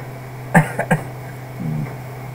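A man with a lingering cough gives two or three short, close coughs in quick succession, followed by a brief throat sound in an otherwise quiet room.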